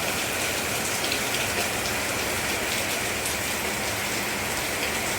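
Steady rain pouring down and pattering on surfaces, a dense, even hiss that stays loud and unbroken from start to finish without any talking.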